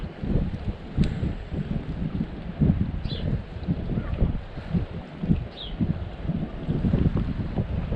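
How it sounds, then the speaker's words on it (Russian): Strong wind buffets the microphone at a fishing spot, with low, rumbling gusts surging in irregular bursts for the full stretch and a couple of faint, brief higher sounds over it. "Ну ветер капец."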